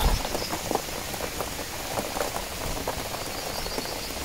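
Steady rain patters on an open meadow during a deer-hunting outing, a dense even hiss of drops continuing throughout with no voices.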